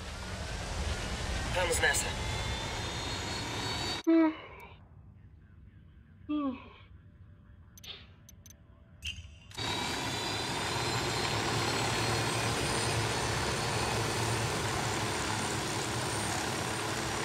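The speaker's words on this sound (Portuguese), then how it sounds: "Aqui está o helicóptero." A helicopter arrives in Ghost Recon Wildlands, its engine and rotor roar loud and steady at the start and end, cutting out in the middle where a few short voice bursts break the near-silence.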